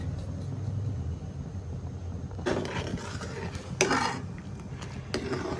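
Noodle spices stirred in a pan for ramen: a low background rumble broken by a few short bursts of spoon scraping against metal, close and moderately loud, with no speech.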